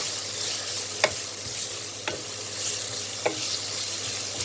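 Leftover roti noodles with capsicum, ginger and garlic stirred in a pan after salt and sugar go in: three sharp spatula scrapes spaced about a second apart over a soft continuous sizzle.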